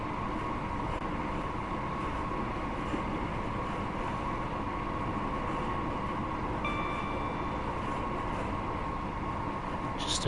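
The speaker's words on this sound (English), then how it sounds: "Just taking the ScotRail Class 158 out for a spin." ScotRail Class 158 diesel train running in Train Sim World 4, a steady, continuous engine and rail rumble held at an even level throughout, with a faint high tone briefly rising in the middle.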